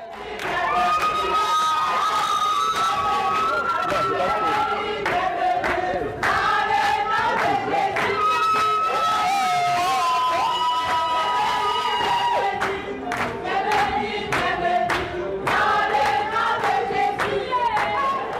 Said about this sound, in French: Des cris de réjouissance, des chants de bienvenue joints à des chants de louange au Seigneur qui a rendu le voyage possible ont été élevés en chœur